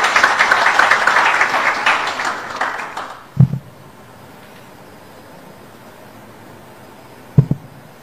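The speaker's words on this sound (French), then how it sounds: "Je vous demande d'applaudir" A political rally crowd applauds loudly in a dense, continuous wash of clapping that fades out after about three seconds, leaving quiet room tone broken by two brief low thumps.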